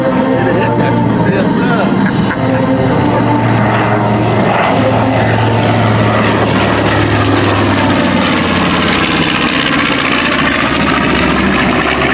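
A B-25 bomber with two Wright R2600 radial engines, 3,400 combined horsepower, makes a loud, sustained droning pass at an airshow in Beaufort, South Carolina, the engine roar shifting in pitch as it goes by, with a voice talking over it.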